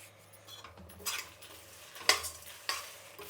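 Turmeric and asafoetida with roasting spices are stirred in a pan, giving soft scraping and a couple of sharp clinks of a spoon against the metal over a faint sizzle, close and fairly quiet with no talk.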